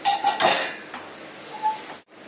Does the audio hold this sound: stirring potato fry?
yes